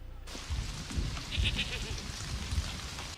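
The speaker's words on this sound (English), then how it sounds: "That goat's still there too." A goat bleats in Jurassic Park, a few wavering calls sounding over a low, rumbling, rain-like wash, with no one talking.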